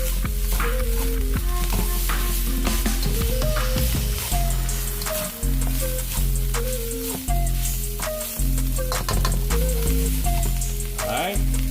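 Shrimp and eggs stir-frying in a hot wok for Chinese fried rice, loud steady sizzling with repeated metallic scraping and clanks of the spatula, close and continuous.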